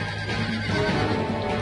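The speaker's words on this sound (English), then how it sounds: "the nearby bandits quickly spurred their horses, and Miklatov and I were quickly cornered." Horses neigh and whinny as bandits spur them on in Suikogaiden, a loud dense burst of game audio with hoofbeats mixed under the cries.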